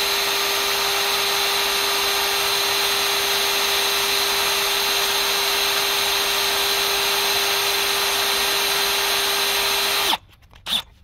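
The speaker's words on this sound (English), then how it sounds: "we're just drilling it out and try to take the plastic off" A power drill boring out broken aluminium T30 bolts on the plastic front cover of a Porsche Macan, a loud steady whine held for about ten seconds before it cuts off, followed by brief clatter.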